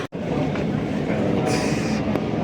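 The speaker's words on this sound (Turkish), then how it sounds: "Bu trene bindirdiler bizi." A Singapore metro train rolls along with a steady, dense rumble and rattle of carriage and wheels, heard from inside the car, with a brief hiss partway through and no clear talk.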